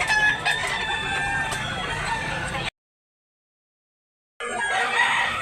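A rooster crowing amid the bustle of a chicken market in Tabunok, Talisay, Cebu, clucking and crowing close by before a sudden gap of silence, then the market noise resumes.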